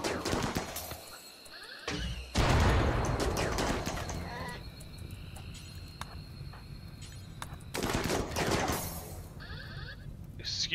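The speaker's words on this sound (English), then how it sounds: "you are firing at the polar bear" Video game gunfire aimed at a polar bear: a couple of sharp, dense bursts of shots break out between quieter stretches, with a voice talking in the gaps.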